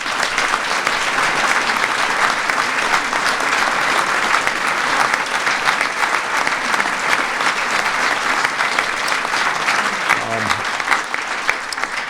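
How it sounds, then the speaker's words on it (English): Audience applause at a presidential bill signing ceremony, a dense, continuous clapping from a large crowd that holds steady throughout and begins to thin near the end. "Please give them a big round of applause."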